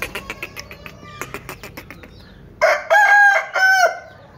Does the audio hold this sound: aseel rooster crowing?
yes